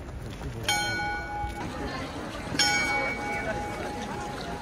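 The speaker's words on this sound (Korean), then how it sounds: "천문시계는 종이 울려서 클리어를 했고" The Prague astronomical clock's bell rings twice, bright metallic strikes that hang and fade, under steady crowd murmur and a voice talking.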